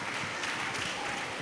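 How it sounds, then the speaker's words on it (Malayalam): An audience at a school alumni gathering claps briefly, a soft, dense patter of many hands lasting just over a second, with no speech over it. "എല്ലാവരും കൈയടിച്ചേ."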